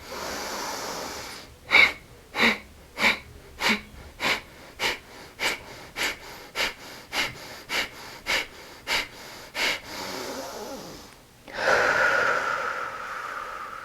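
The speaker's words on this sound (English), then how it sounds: "take a deep breath in, and then you're going to pump the air out using your stomach muscles" Kapalabhati yoga breathing: about fifteen sharp, forceful exhalations pumped by the stomach muscles in a steady rhythm, close and clear, followed by a longer deep breath.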